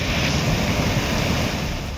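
Floodwater from the swollen Narmada River rushes past in Mandla district, Madhya Pradesh, strong enough to sweep a car along, a loud dense continuous roar with wind buffeting the microphone.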